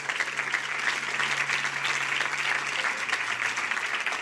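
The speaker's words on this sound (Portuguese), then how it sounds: "Você pode aplaudir Jesus aí só para eu tomar um pouco de água?" A church congregation applauds steadily during a Portuguese-language worship service, a dense, sustained patter of many hands filling the room without a break and holding an even level throughout.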